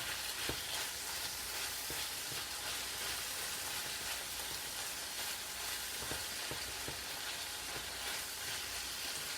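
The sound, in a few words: squash and chicken breast frying in a pan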